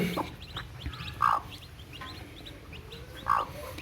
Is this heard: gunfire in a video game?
no